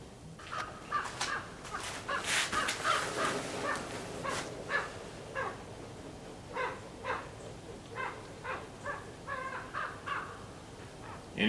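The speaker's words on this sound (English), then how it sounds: "Incoming Raven." Raven caws repeat in a loose, irregular series, fairly close and loud, with no talking over them.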